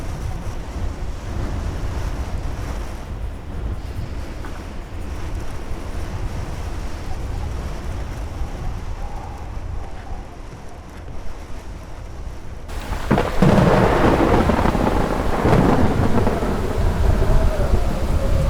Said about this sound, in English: I have never seen a storm this bad before.